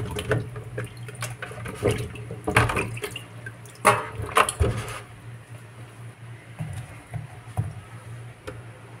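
Saba bananas rinsed under a running kitchen tap: a steady close splash and gush of water with bursts of louder sloshing and knocking as the fruit is handled, then settling into a softer flow, with no voices.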